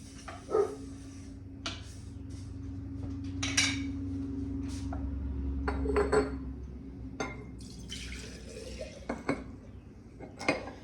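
A spoon clinks and scrapes against a glass jar while maple flavoring ingredients are stirred, giving irregular close taps and chinks over a low steady hum.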